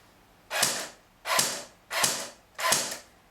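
An AEG G39C electric airsoft rifle with a metal gearbox fires on semi-auto, giving four separate crisp mechanical whirring cycles at an even pace, close and loud with no talking.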